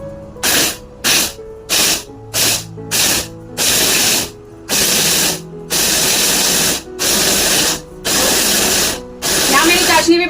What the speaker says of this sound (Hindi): तो अभी मैं इसको ग्राइंड कर लेती हूँ